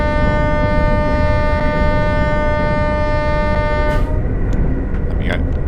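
A Class 802 train horn sounds in Train Sim World 6, a loud sustained multi-tone blast that cuts off about four seconds in, followed by a brief second toot over steady rumbling train noise.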